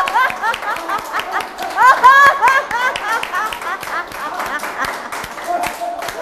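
An indoor audience at a laughter-therapy talk claps and stamps their feet together in a fast, steady rhythm, with laughter and cheering voices rising over the beat.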